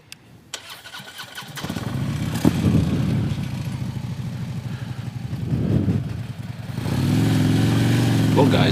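A Harley-Davidson motorcycle cranks and fires, then settles into a loud, close idle with a couple of revs that swell and fall; someone talks over part of it.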